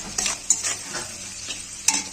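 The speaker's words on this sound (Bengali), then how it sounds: "পেঁয়াজটা লাল লাল করে ভাজা হয়ে গেছে" Onions frying in a pan with cumin and dried chilli for a Bengali egg tadka, a steady close sizzle broken by a few sharp stirring scrapes of the spoon, with no voices.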